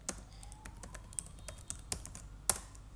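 Brisk typing on a computer keyboard, with quick irregular key clicks close by and a sharper keystroke near the end, and no other sound.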